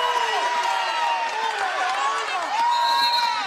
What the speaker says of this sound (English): The crowd is going crazy here to my left. Tamworth supporters.